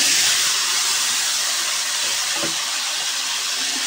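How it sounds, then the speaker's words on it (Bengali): Pieces of pointed gourd (potol) fry in hot oil, a loud, even, close-up hiss that holds steady throughout. "এবার পটলগুলোও ভেজে নেব।"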